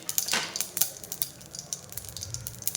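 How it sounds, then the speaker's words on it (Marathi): Mustard seeds and cumin crackling in a little hot oil for bitter gourd seasoning, a quick scatter of sharp pops and ticks, close and fairly faint. "आणि जिरे तडतडू देणार."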